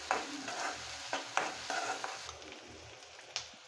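Onions fry in a pan for Kathiyawadi okra curry, a quiet sizzle with a run of spoon scrapes and stirs that thin out toward the end, a last clink near the close.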